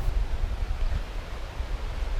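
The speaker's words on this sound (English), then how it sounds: "the GoPro is extremely good at picking out wind noise, and it is pretty windy" Low rumbling buffets of wind batter a GoPro microphone outdoors, forming a constant, gusty roar with no other sounds standing out.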